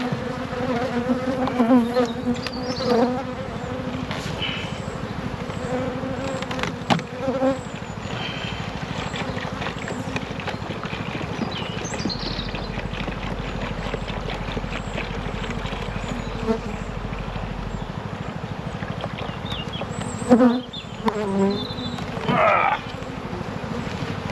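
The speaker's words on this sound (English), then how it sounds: "So the bees at the minute are horrific." Agitated honey bees buzz around an opened hive during winter syrup feeding, a constant close droning hum with occasional knocks and handling sounds.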